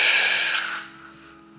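A deep breathwork inhale, starting from empty lungs: a strong, close airy rush that gradually fades and softens over under two seconds, with no talking.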